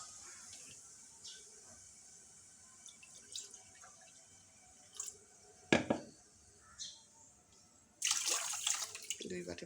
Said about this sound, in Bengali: দুই বাটি পানি দিয়ে দিলাম